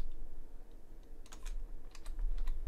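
Keys clacking on a computer keyboard that is not sitting flush, a sparse, irregular run of quick taps heard up close and fairly quiet, with no speech.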